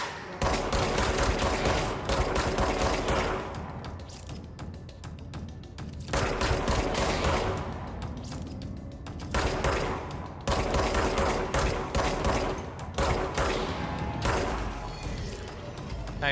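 Repeated gunfire in the video game Control, bursts of shots and mechanical weapon clatter recurring in waves for the whole stretch, loud and close, with no voices.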